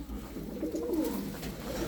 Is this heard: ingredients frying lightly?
no